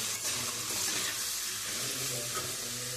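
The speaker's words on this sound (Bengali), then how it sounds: "দিয়ে এবারে মশলার সাথে খুব সুন্দর করে আমি এবার লাল লাল করে আমি ভেজে নেব।" Spices with cumin powder and salt sizzling steadily in hot oil in a pan while preparing fish head muri ghonto, a continuous close frying hiss with no talk.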